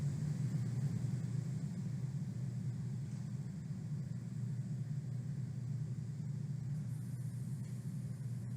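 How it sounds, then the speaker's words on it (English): Rocket first stage booster on its third flight firing its landing burn over Florida, heard as a steady, distant low rumble with broadband roar, continuous throughout. "Stage 1 landing burn."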